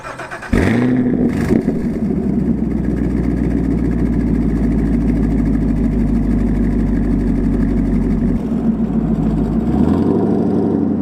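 A Camaro SS V8 with a Borla S-Type exhaust cranks and fires up from a warm start, then settles into a loud, steady idle with a rhythmic exhaust burble and a small rise near the end.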